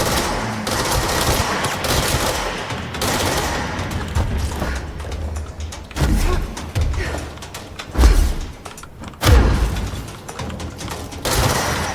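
Gunfire in Alan Wake's American Nightmare, a steady stream of shots running through the whole stretch, with heavier thudding blasts punching out near the end.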